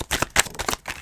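Tarot cards being shuffled at close range, a quick run of crisp riffling flutters and soft slaps over about a second, with no voices.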